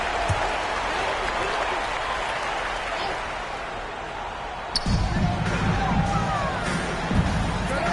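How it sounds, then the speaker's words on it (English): A crowd applauds steadily at a football game, a dense wash of clapping at moderate distance, with a few sharp bangs and scattered voices later on. "Please give a big round of applause for our best team."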